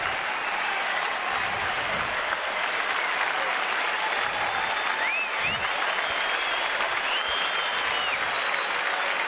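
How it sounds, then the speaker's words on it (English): A baseball crowd at a ballpark stands and gives a long ovation for a 30-game hit streak, with dense, sustained clapping and scattered cheers that stay loud throughout. "And they're applauding a remarkable achievement."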